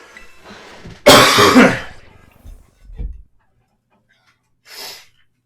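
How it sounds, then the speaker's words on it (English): A single person coughs and clears their throat in a short fit: one loud, harsh burst, a smaller rasping cough after it, then a faint final hack following a brief pause, close to the mic. "the coughing fit decided to hit me, like, right now"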